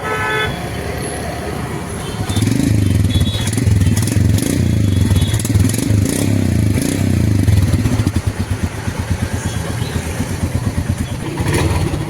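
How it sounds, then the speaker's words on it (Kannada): A Royal Enfield Himalayan motorcycle engine cranks and then catches, settling into a loud, close, steady thumping idle that keeps running for several seconds, with some clatter and a voice briefly heard. "ಗಾಡಿ ಆನ್ ಆಗೋಯ್ತು ಫೈನಲ್ಲಾಗಿ"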